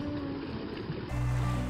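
Fast-flowing water tumbles through cascades in a coastal forest stream, a steady broadband rush heard close with no voices, thickening into a heavier, deeper roar partway through.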